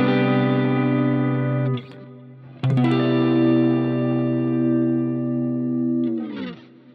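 Major 9 chords strummed on an effects-laden electric guitar, three sustained chords ringing out loud and clear with a chorus-like shimmer, each left to decay before the next is struck.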